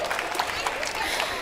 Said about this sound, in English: How about a round of applause for these kids?